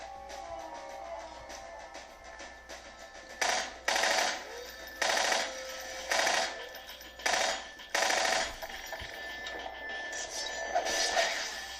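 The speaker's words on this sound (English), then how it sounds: "I really need to switch back to my submachine gun now that I've got some more bullets" Rapid bursts of submachine gun fire in the video game Half-Life 2, several short volleys in a row, loud and close with clinking game effects between them.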